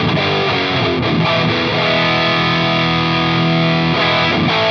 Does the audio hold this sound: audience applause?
no